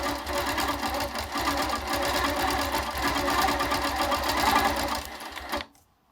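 A Handi Quilter longarm machine with a micro quilting foot stitching fills: a steady, fast mechanical whir with a rapid needle rhythm that runs for several seconds, then stops abruptly.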